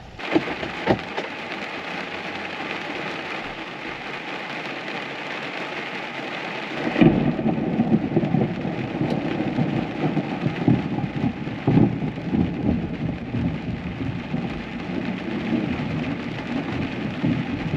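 Steady rain drums on and around an RV during a thunderstorm, with a deep rumble of thunder swelling in partway through and lingering under the continuous downpour.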